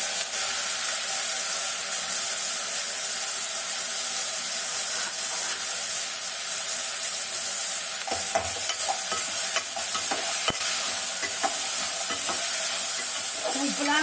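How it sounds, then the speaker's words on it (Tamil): Broad beans (avarai) sautéing in a pan for sambar, with a loud, steady oily sizzle throughout and occasional scraping clicks from stirring near the end. "இதுலேயே அவரைக்காய் போட்டு வதக்கிக்கலாம்"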